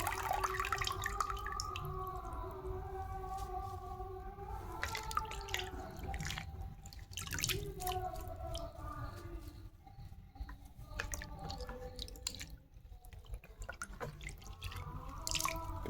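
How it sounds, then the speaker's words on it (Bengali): Bathua leafy greens washed in water make soft, quiet drips and splashes that trickle on and off throughout, close and gentle. "শাক ধোয়া হয়ে গেছে"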